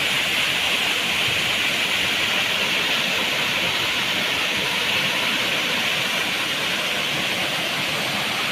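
Water pours at Brahmadev falls in Donivade, a steady broadband rush that holds even and continuous throughout with no voices, with the flow reduced after the rains eased.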